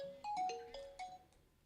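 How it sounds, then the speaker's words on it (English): A phone ringtone for an incoming call on a live radio show plays a short bright melody of stepped tones, close and clear on its own, then fades out. "Getting a phone call."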